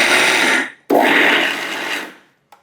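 A kitchen mixer with its lid on blends a gulkand laddu mixture. It whirs in two loud, grinding bursts with a brief stop between them, then winds down into silence before a small final knock.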